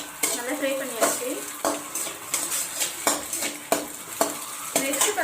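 Egg fries in a pan for egg rice, with a spatula scraping and stirring in regular strokes about every second over a constant close sizzle.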